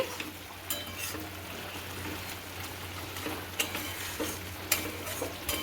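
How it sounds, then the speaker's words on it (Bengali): Pieces of fish are gently stirred in a pan with a little water, soft sizzling under intermittent scraping clicks of a spatula against the pan, close and fairly quiet. "সবগুলো মাছ আমি দিয়ে দিচ্ছি এবার হালকা করে নেড়ে দিচ্ছি"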